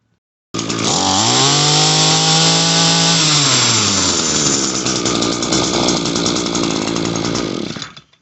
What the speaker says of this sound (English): Fired up first pull on choke, and then took it off choke, full throttle, fired up, ran perfect.